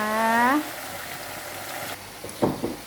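Shrimp and squid fry briefly in hot oil, giving a steady sizzle with a few sharper pops and clatters near the end. A voice speaks over the start.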